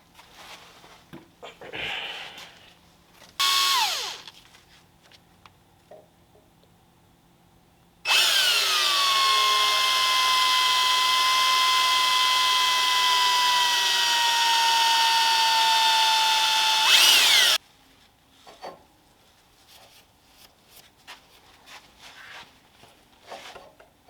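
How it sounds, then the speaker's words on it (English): A power drill whines steadily for several seconds, loud and close, drilling into a TH400 transmission case, its pitch sagging slightly as it bites in, after a short earlier burst. "We are going to start drilling into this thing."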